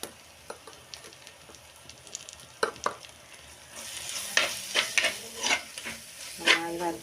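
Chicken masala with ground coriander and pepper fries in a clay pot and is stirred, with steady sizzling and repeated scraping strokes that grow louder and more frequent toward the end.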